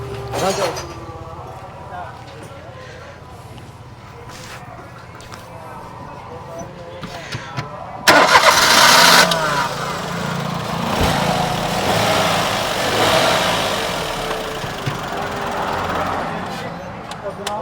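An engine being started, with a quiet, rough running sound at first, then a sudden louder surge as it catches and revs steadily, heard close by.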